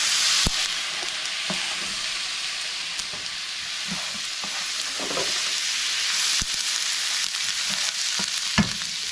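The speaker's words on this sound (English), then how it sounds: "Give that a stir." Curry with tomatoes sizzles and fries steadily in a pot while a spoon stirs it, scraping and tapping now and then, close and loud with no talk.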